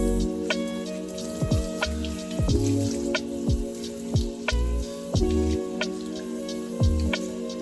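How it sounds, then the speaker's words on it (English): Water splashes and drips steadily while hair is rinsed of conditioner during a home wash-day routine, with irregular splats over a continuous trickle, close and moderately loud, no talking. "And then I rinse."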